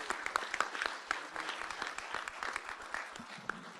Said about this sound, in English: A round of applause for these great veterans and all the veterans of our United States of America.